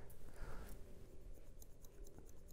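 Barber scissors cut into a client's hair during a Caesar cut, giving soft, quick, quiet snips in a short irregular run, close and faint.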